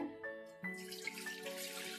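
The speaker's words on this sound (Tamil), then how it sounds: "தேங்காய் பால் தண்ணி எடுத்து வச்சுருந்தோம்ல அந்த தேங்காய் பால் ஊற்றிக்கிறேன்" Thin coconut milk is poured into a pot for cooking kozhukattai, a soft steady liquid trickle with faint ringing tones, close and quiet.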